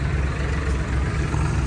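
A Kubota MU5502 tractor's four-cylinder, 2434 cc turbocharged engine idles close by with a steady, even low rumble and no change in pace.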